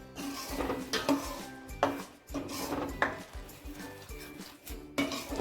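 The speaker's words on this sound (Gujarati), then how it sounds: "હવે એને સરસ રીતે આપણે મિક્સ કરી દઈએ અને થોડી વાર આપણે એને ઉકળવા દઈશું" Sev usal gravy mixed in a pot with a metal spoon, giving repeated clanks and scrapes against the pot in an irregular rhythm, close and fairly loud, with no talking.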